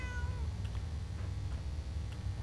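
A cat meows in the game Fallout 4, with a short tonal cry early on and faint mewing after it over a low background hum.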